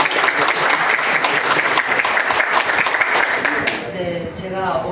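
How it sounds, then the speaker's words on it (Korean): Applause from the audience at a boxing press conference for a WBA super featherweight world title fight, dense and loud for about four seconds before fading as a voice begins speaking. "여러분 박수 주세요."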